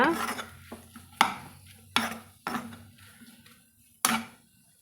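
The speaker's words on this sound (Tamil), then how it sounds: "கொஞ்சம் மல்லி இலையில் வந்து நம்ம தூவிட்டு திருப்பி நம்ம கலந்து விடலாங்க" A spatula stirs and turns leftover chapati pieces tossed with chilli sauce and sprinkled coriander leaves in a metal pan, giving several sharp scraping clacks spaced about a second apart over a low stovetop hum, close and moderately loud.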